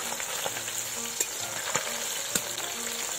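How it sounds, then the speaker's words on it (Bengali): Pieces of a large black carp, from a fish of about 22 kg, frying in oil: a steady close sizzle with small pops and crackles throughout, with no voices. "আর একদিকে ভালো করে ভেজে নেব। দেখো মাছে কত তেল উঠেছে।"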